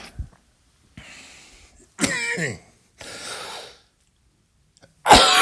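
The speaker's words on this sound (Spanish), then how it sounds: "Vaya tela con la tos." A coughing fit: a handful of sharp, close coughs and throaty bursts separated by short silences, the last one loudest.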